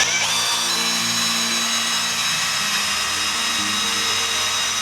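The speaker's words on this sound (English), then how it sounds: "If you take your 3/8 of an inch drill bit or your 1/2 inch drill bit and go ahead and drill a small hole right here on both ends" A power drill with a 3/8 or 1/2 inch bit bores a small hole in the top bracket of a post cap, a steady close whine with a slight pitch shift partway through, with no talk.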